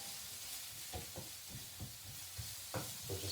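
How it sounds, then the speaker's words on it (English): Chopped onion sweating in oil in a pan for spaghetti and meatballs, giving a low steady sizzle with soft stirring knocks and scrapes at irregular intervals, fairly quiet and with no voices. "add your onion straight into the pan, and you're just wanting to sweat these off"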